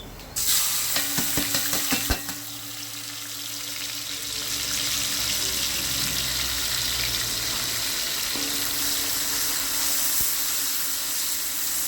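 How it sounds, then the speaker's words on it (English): Curry leaves drop into hot oil with a sharp crackle, then a steady, close sizzle of frying continues, with a few stirring clinks early on. "You need to hear that sizzling sound there."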